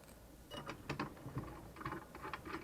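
A faint, close ratcheting clicks in quick irregular bursts as a 3/8 bolt with lock and flat washers is tightened into a spring nut while mounting a Hi-Lift farm jack inside a Jeep Wrangler, with no talking.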